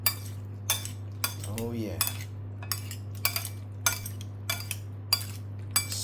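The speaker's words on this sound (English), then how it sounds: "What we got to do though is we got to mix this dabu dabu. Go ahead, mix it up." Dabu dabu sauce being mixed with a utensil, giving a steady series of sharp clinks and scrapes against a dish roughly twice a second over a constant low hum, with a brief spoken remark.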